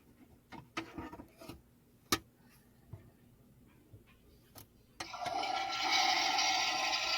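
Small clicks and taps from a toy dollhouse toilet are followed by its flushing sound, a loud, sustained rushing of water that swells and keeps going to the end.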